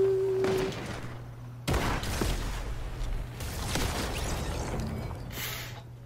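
Sniper gunfire in Arsenal mode of a video game: a few sharp, loud shots with ringing tails over steady game background noise, no voices.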